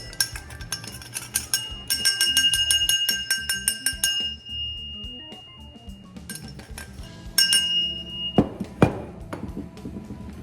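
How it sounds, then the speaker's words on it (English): A wrench knocks and scrapes inside the steel combustion chamber of a diesel heater, making bright metallic clinks, rattles and ringing tones in busy bursts, followed by a quieter stretch and a few louder strikes. "all I'm doing is using a wrench to kind of go in there and break it free"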